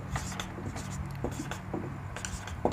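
Chalk or marker scratching across a classroom board in short, quick strokes, faint and close, with brief pauses between each stroke and a low background hum.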